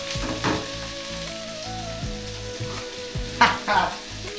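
Tomatoes sizzling in a hot pan, being stirred, with a steady close fry and a few louder scraping stirs near the end, no talking.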